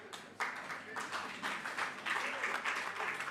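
A seated parliamentary audience breaks into applause, a soft, sustained patter of many hands clapping, faint and somewhat distant, with a voice speaking over it.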